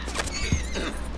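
A horse neighs once, short and fairly close, amid the outdoor soundscape of the video game Red Dead Redemption 2 Online, with a dull low thump midway.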